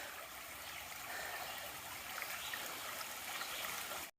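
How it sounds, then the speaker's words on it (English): Higley Brook, a stream along the Appalachian Trail, flows steadily with a broad hissing rush of water, constant and fairly close throughout with no voices. "This is Higley Brook. Looks quite nice."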